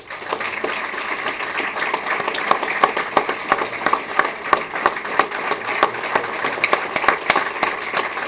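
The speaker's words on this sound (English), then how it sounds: "let's have a big round of applause as we unveil the Freedom Award for" Steady, sustained applause from a crowd at the Gate City Bank Freedom Award 2022 presentation, a dense wash of many hands clapping with sharper individual claps popping through, holding even in level throughout.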